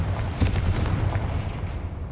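Confringo blasting spell from Hogwarts Legacy, a sustained loud, rumbling burst of explosive noise with a few sharper pops early on that fade into a dull roar.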